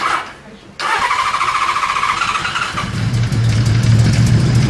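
A Kawasaki Z1300 motorcycle engine cranks and catches with throttle applied, its low, steady running note building and growing louder toward the end while voices talk over it.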